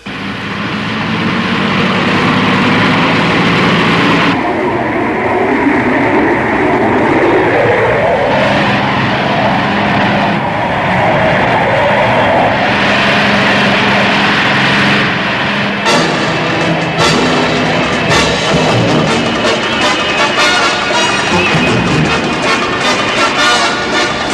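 Aircraft engines run on a runway with a steady, loud roar lasting throughout, the pitch shifting and swelling as the engines rev, with metallic whines and rumble layered in.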